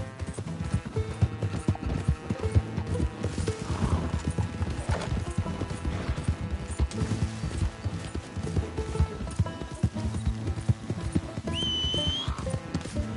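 Horse hooves clip-clop steadily in a quick rhythm, and a high neigh rings out near the end, from a mare in the video game Red Dead Redemption 2.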